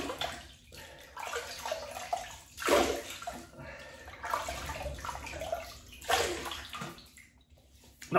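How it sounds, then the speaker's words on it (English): Water splashes and sloshes at a sink as a face is wetted before a wet shave, coming in several separate bursts of running, splashing water close by with short quieter gaps between them. "so we'll wet the face"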